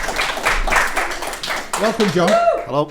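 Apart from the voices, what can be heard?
audience applause welcoming a guest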